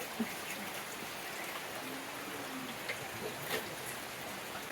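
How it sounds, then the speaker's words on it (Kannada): Steady rain falls outside a house on a dark, cloudy morning, a soft continuous hiss with scattered faint drops and no voices. "ಹಾಗೆ ಮಳೆನೂ ಬರ್ತಾ ಇದೆ"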